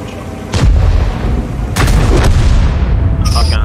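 Tank cannons firing in World of Tanks, two or three deep booming shots with long rumbling tails over continuous battle noise, loud and close.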